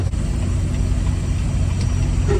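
Delivery truck engine rumbling low and steady while reversing at a busy loading area, a close, loud idle-like drone with no clear revving.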